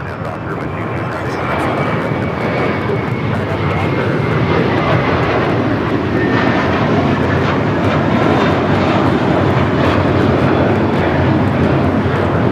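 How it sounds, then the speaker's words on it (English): JetBlue Airbus A321 jet taking off from runway 25 right at LAX, a loud, continuous engine roar that builds slightly and holds steady, heard from nearby, with people talking over it. "JetBlue flight now taking off 25 at right"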